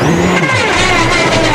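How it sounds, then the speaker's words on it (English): A rally car in the 2006 Uddeholm Rally Sweden, a WRC event, drives on a broken wheel after hitting something in the stage, giving a loud, continuous engine roar with harsh, rough noise throughout and no talk. "But that's the sound of a broken wheel."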